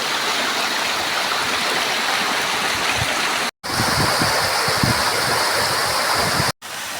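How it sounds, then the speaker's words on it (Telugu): Water pouring steadily at Rathi Balli waterfall, a loud continuous rushing roar close by, broken by two short cuts, with no voices. "చాలా బాగా వాటర్ అయితే ఫ్లో అవుతుంది"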